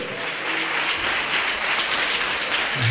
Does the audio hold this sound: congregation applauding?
yes